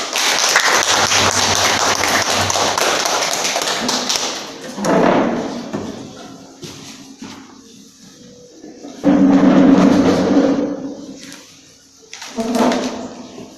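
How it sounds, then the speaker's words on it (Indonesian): Students in a classroom at an Islamic boarding school clap for a classmate. A dense burst of applause lasts about four seconds, then fades to scattered taps and thuds, with short murmured voices afterward. "Kita beri tepuk tangan untuk Maya."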